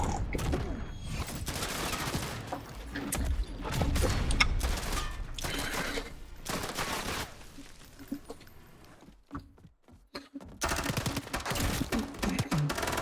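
Sustained automatic gunfire in the Modern Warfare beta, long dense rattling bursts with a brief lull near the end before the shooting resumes, loud and close.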